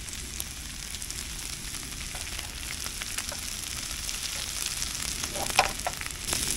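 Smoked fish hash with potatoes and onions frying in oil in a pan: a steady, moderately loud sizzle with crackles and occasional stirring scrapes, no voices.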